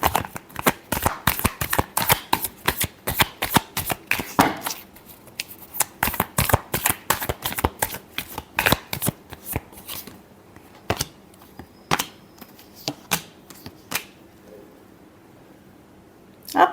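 Tarot cards are shuffled in rapid bursts of crisp riffling and slapping, loud and close, with dense clusters of quick card snaps early that thin into sparser single flicks toward the end.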